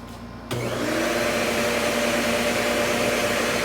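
A shop vac switches on abruptly and settles into a loud, steady whine with a constant hum, running alone and close by in a woodworking shop during mortise cutting.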